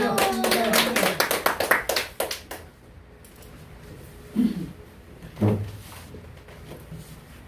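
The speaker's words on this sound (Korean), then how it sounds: "박수!" Quick burst of applause from a small group welcoming a company head at a skincare consultation session, a couple of seconds of brisk clapping that fades, followed by a few isolated taps and brief voices.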